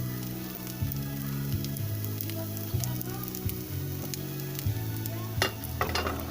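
Potato pieces fry in hot oil for adobong patatas, a steady close sizzle broken by occasional stirring scrapes, with a low humming tone running underneath.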